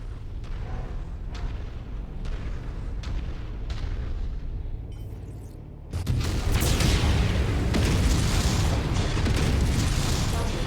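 Autocannon and SRM missile fire in a MechWarrior Solaris arena match, a steady barrage of rapid booming shots and rumbling impacts that swells louder and denser midway, with no talk.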